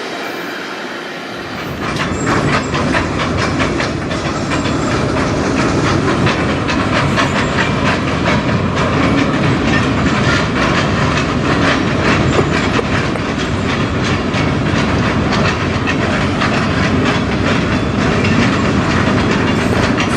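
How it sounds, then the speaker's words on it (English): Yard train being pushed rather than pulled along rails, loud and close after a quiet start, with continuous rumbling, clickety-clack wheel rhythm and occasional squeal lasting throughout. "This is a yard train being pushed, not pulled."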